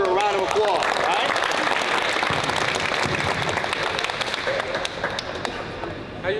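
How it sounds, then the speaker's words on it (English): A crowd of basketball campers claps in a steady, dense round of applause that fills the room and slowly thins toward the end, with voices mixed in. "Let's give Tavon Parker a round of applause, right?"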